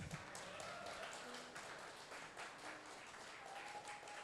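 An audience at a talk applauds with a continuous, fairly faint patter of many hands clapping, even and unbroken throughout.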